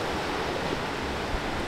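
Moderate ocean waves wash onto an empty beach in Bali, heard as a continuous broad hiss of surf with some rumbling wind, steady and fairly close, with no one talking.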